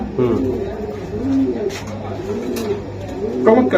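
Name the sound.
racing pigeon cooing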